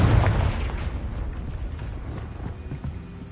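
A Confringo blasting spell explodes in the Hogwarts Legacy video game, a loud boom at the start whose rumbling blast decays over a few seconds, with softer crackling hits after.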